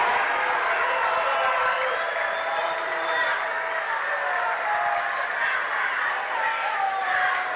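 Home crowd at a 1995 high school boys basketball rivalry game between Port Huron and Port Huron Northern, cheering and applauding in a steady dense roar with whistles and shouts, while a commentator talks over it.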